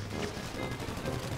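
Gunfire in a GTA V firefight, a dense, steady rattle of shots filling the whole moment without clear pauses.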